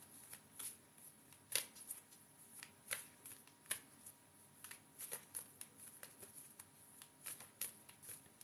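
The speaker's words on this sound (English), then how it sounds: "Give these a good shuffle." A deck of tarot cards is shuffled by hand in a quiet room, giving a run of soft riffling bursts and sharp papery flicks at an irregular rhythm, close and fairly quiet, with no talking.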